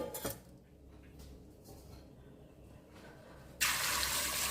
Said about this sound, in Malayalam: കുക്കറിനകത്തോട്ടിട്ട് ആവശ്യത്തിന് വെള്ളം ഒഴിച്ചിട്ട്